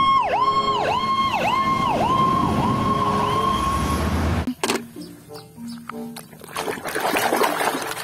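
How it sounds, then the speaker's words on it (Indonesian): A toy fire truck's electronic siren wails in a fast, steady up-and-down pattern, loud and close, for several seconds before cutting off, followed by clattering toy handling and faint background noise. "lihat guys, ada truk pemadam kebakaran"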